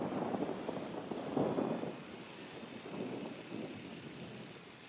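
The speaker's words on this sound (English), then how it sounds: "The drone is up." Tom Clancy's Ghost Recon Wildlands drone hovers with a steady, faint buzzing whir under a soft game ambience, its pitch wavering slightly as it drifts.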